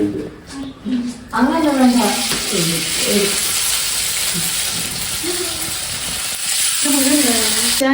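Half-cooked chicken goes into hot oil and fries with a steady broadband sizzle, close and loud, while voices talk over it in stretches.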